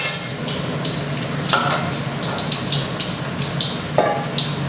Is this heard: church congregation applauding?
no